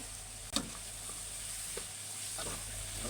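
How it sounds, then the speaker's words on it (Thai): Pork stir-fried with garlic in a pan, giving a continuous soft sizzle with a sharp clack of the utensil near the start and a few lighter scrapes later, fairly quiet and without talk. "กระเทียมเริ่มหอมแล้วเอาหมูใส่เลยนะทุกคน ใส่แล้วก็ผัดให้เข้ากันนะ"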